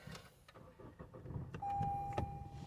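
A few soft clicks and thumps as a 2016-or-later Lexus IS200t F Sport is switched on, followed by a steady electronic tone that sounds and holds, quiet and close.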